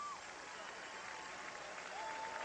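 A stadium crowd at Wagner Field in Manhattan, Kansas, roars steadily at a 1991 Colorado versus Kansas State college football game, a broad continuous wash of cheering and applause heard from a distance.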